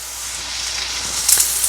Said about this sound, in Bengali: এবার আমি আদাটা ফোড়ন দেব